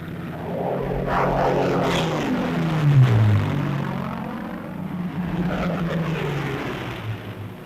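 P-51 Mustang fighters escorting bombers pass overhead, their propeller engines roaring loud and close with a sweeping, falling pitch as one flies by, then the drone swells again from another aircraft.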